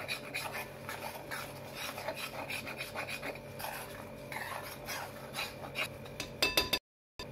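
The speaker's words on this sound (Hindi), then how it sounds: "थोड़ा भून लेंगे बेसन को ताकि वो कच्चा ना रहे।" Gram flour (besan) being roasted in a pan with a spoon, a continuous dry scraping and rasping that carries on steadily at moderate loudness with no talking.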